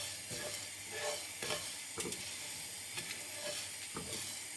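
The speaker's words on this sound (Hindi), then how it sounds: "धनिए को और ज़ीरे को हमने भून लिया है।" Coriander and cumin seeds dry roast in a pan over low flame, giving a soft steady sizzle with light scraping and stirring strokes, faint and close, with no voices.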